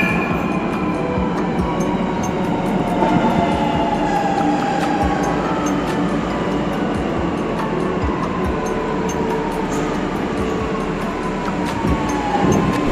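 Steady rumble of a Lucknow metro train in motion, with rising and falling electric motor whine and light rail clatter throughout.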